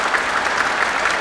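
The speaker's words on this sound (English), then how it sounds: "if you would turn around and give your applause to the fine men and women back there" A crowd claps steadily at a Badcock Furniture store ribbon cutting, applauding the staff. The dense, even applause is moderately loud and continues without pause, with no voices on top.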